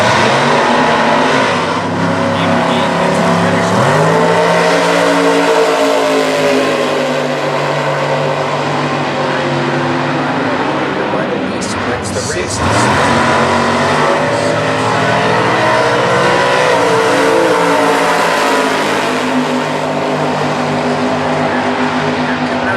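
Super Gas class drag racing cars at Indy, including a 1969 Camaro roadster, staging and launching: loud, sustained engine roar with rising and falling revs that fills the whole stretch.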